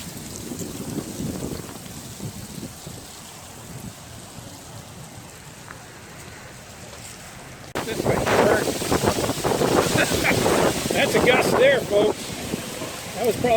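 A strong gust of roughly 25 to 30 miles per hour rushes through leaves along a park bike trail, a broad roaring swell of wind that rises abruptly and stays loud to the end after a quieter, breezy stretch.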